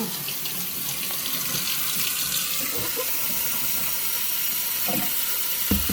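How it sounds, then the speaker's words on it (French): Cold tap water running steadily into a pot of potatoes for tourtière, a continuous close splashing rush with a few small clinks near the end, no speech. "Je vais mettre un petit peu d'eau pour pas qu'elle s'oxyde. Un peu d'eau froide."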